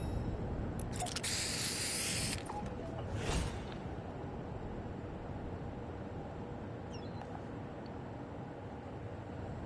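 Spray paint hissing in the Fortnite video game, a bright airy spray burst lasting a couple of seconds and then a shorter puff, with a low steady background rumble continuing afterward.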